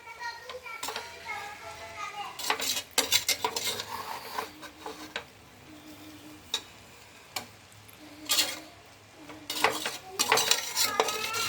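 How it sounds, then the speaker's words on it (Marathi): Egg being stirred into rice in a pan for egg rice, with repeated scraping and clinking of a utensil against the pan in short bursts, a voice and other light household noise in the background. "तो जे आपण एग आपण त्याच्यामध्ये घातलंय ते छान असं त्यात मिक्स झालं पाहिजे"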